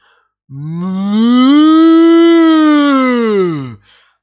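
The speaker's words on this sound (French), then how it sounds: "les bêtes géantes, qui paissaient sur des collines, mugissaient si fort" A single long, loud, harmonic cattle bellow that rises and sustains for about three seconds before cutting off, heard close and alone.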